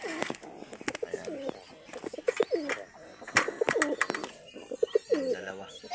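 Pigeons in a loft coo repeatedly in soft, rolling phrases, close by, with a few wing flutters and scattered rustles between the calls; someone speaks briefly in between.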